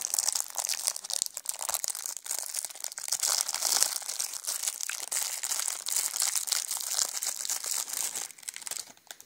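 Plastic bead container being handled and opened, continuous close crinkling and clicking plastic rustle at a fairly quiet level.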